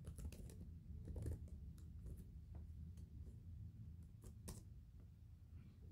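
Fingers type code on a computer keyboard in a steady patter of soft close key clicks, some louder strokes, over a low room hum with no speech.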